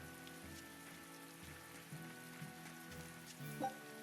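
Rain falls steadily in the town of Westgate in Tales of Berseria, a soft, quiet patter under low tonal game music, with a faint blip near the end.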